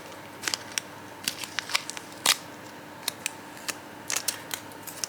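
Perforated paper stickers are torn apart like stamps, heard as a faint, close series of uneven crackling snaps and small rips with quiet pauses between them.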